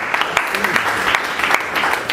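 An audience applauds a speaker at a French-language talk, a steady wash of many hands clapping at close range with a few sharper claps standing out, lasting throughout.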